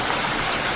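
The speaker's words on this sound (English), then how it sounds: "And it's raining." Rain falls in a forest as a short, steady, dense hiss with no other sounds.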